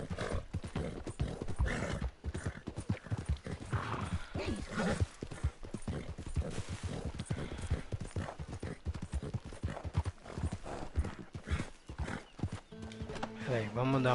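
Hooves of a horse galloping in the open-world western video game Red Dead Redemption 2, a rapid, continuous clip-clop rhythm close by, with a brief whinny-like sound near the end.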